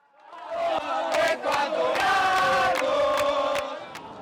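Football fans at the World Cup in Qatar cheer and chant together, a loud, sustained crowd roar with sharp bursts and sung tones swelling and fading over a few seconds.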